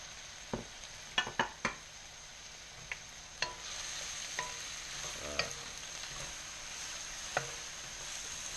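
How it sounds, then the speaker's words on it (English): Shrimp in a pan with oil sizzle in a steady, faint hiss, broken by a few sharp clinks and taps of a utensil against the pan. "Go ahead and put the shrimp back in here now."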